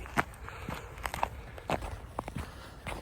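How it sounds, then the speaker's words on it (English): Footsteps crunch over frozen, crusty ground outdoors, a steady walking rhythm of sharp, close crunches in a quiet setting. "as you can hear, it's still very crunchy underfoot."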